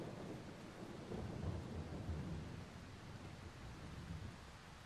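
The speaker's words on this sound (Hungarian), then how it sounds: "szakad az eső" Heavy rain pours steadily with deep rumbling thunder rolling underneath, a dense continuous wash of sound that swells slightly in the middle, with no voices.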